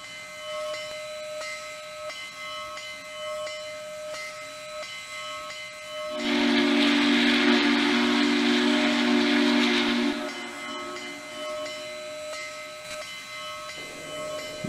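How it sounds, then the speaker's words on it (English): A steam locomotive in the Trainz railway simulator hisses steadily with a faint background hum. A loud, bright multi-tone steam whistle sounds for about four seconds, then the hiss continues alone. "I'm gonna check out this steam locomotive I just purchased on K&L Trainz."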